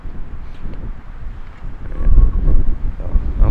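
Strong wind gusts outdoors along a hiking loop near a campsite, buffeting the microphone with a continuous low roar that swells louder in the second half.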